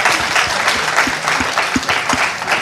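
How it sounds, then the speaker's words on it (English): A seated conference audience in Dhaka claps and cheers in a steady, dense wash of applause with a few louder individual claps standing out. "You just have to say the word and they cheer."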